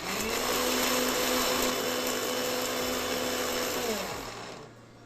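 A mixer grinder grinding whole spices for homemade chicken and mutton masala powder runs as a loud, steady whir, then winds down and stops near the end; no talking.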